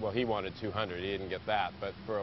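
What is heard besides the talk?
None of the usual background noises is heard.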